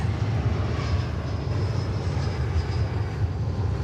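American Airlines flight 3370 airliner arriving at DFW Airport, a steady broad engine roar that stays loud and even throughout, with a faint high whine riding on top.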